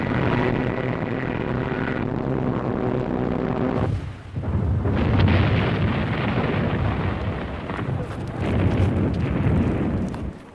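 Luftwaffe bombs falling on Malta in early 1941, heard as a dense rumbling roar of blasts, with a short lull and then fresh heavy booms that swell and fade again, loud and continuous.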